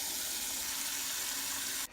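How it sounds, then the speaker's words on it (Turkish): Tap water pours steadily from a faucet into a container of green olives being cured, a loud continuous splashing rush that cuts off abruptly just before the end. "şimdi üzerlerini bildiğimiz çeşmeden musluk suyu ile komple dolduracağız"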